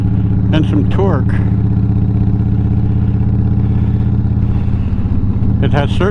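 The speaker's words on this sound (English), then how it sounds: "It has certainly made my bike a little bit louder." A motorcycle fitted with a Monster Sucker air intake idles loudly and steadily up close, its engine chugging in an even throb, while someone talks over it.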